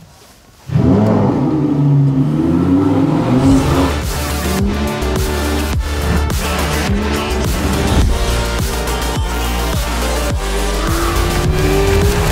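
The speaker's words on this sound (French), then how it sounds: "je ne résiste pas à mettre le V10 en marche de cette Lamborghini" A Lamborghini Huracan Evo's V10 engine cranks and fires up, then revs loudly and repeatedly, with rising and falling blips close by and nobody talking over it.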